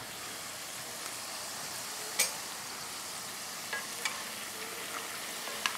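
Corn tortilla chips frying in oil on high heat, a steady moderate sizzle with occasional crackles and pops, with no voices.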